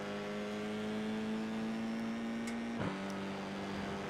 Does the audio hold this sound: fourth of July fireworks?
no